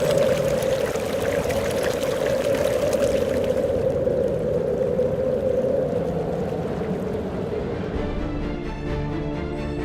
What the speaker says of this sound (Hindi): इससे जुगलबंदी कर रही है स्पीति नदी की कलकल